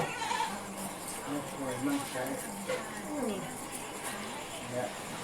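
Goats, including young kids, and sheep bleat repeatedly on a Thai farm, several wavering calls at moderate distance while someone talks over them.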